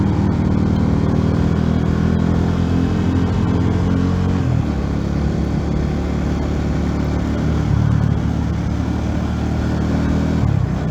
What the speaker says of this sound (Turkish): motorcu geliyor karşıdan.